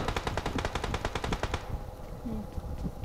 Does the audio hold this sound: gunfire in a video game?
yes